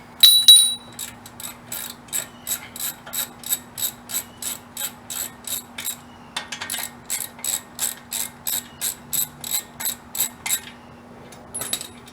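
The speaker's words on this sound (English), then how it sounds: "you're gonna need a 7/8 socket to remove it" Ratchet wrench with a 7/8 socket loosening a brake bolt on a 2014 Nissan Altima, a steady run of about twenty loud, close clicking strokes in even rhythm with a brief pause midway, alone with no talk.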